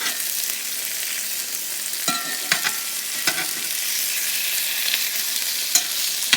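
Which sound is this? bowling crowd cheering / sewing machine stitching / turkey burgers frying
turkey burgers frying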